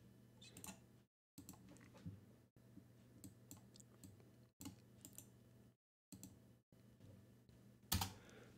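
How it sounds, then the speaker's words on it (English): Bursts of typing on a computer keyboard, with rapid clustered key clicks separated by brief silent pauses and a sharper clack near the end, close and fairly quiet. "I'm going to type it."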